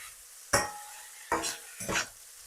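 Garlic and the tougher parts of a vegetable are stir-fried in a pan for vegan pad see ew, heard as three short, loud bursts of sizzle and scraping separated by near silence.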